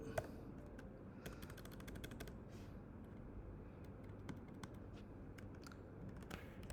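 Typing on a computer keyboard while writing notes, a steady patter of light keystrokes at a quiet level, with a few sharper clicks standing out over a soft room hiss.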